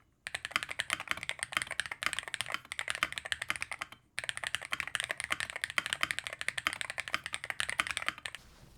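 Steady rapid typing on a Hall effect keyboard, close and clear, with soft muffled clacks in continuous bursts and a brief pause midway.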